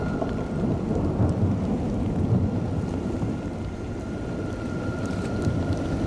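Heavy rain pours steadily over burned scrubland in the Bouches-du-Rhône calanques, a dense, loud hiss with low thunder rumbling through it and some wind, with no voices.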